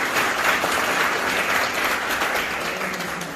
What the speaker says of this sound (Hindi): एक बार जोरदार तालियां उन सभी के लिए